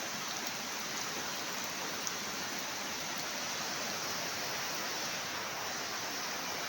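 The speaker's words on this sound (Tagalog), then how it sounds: "Lakas yung ulan." Steady, dense rainfall pours down continuously, a loud broadband wash with no pauses and no voices.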